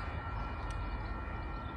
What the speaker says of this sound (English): First train since I got here. So it's gonna stop at the station real quick.